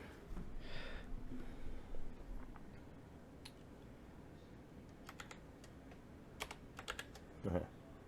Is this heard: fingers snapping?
no